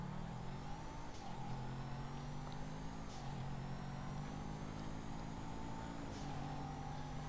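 A car engine in GTA 5 Online hums and revs steadily throughout, rising in pitch in repeated waves, with faint tire or road noise underneath.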